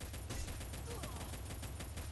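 Rapid pistol gunfire in the mobile shooter Free Fire, a steady burst of repeated shots at close range forming a dense, even volley with no pauses.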